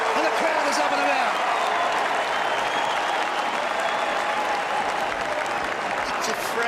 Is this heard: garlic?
no